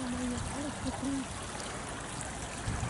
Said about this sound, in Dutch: even dat beekje even zien.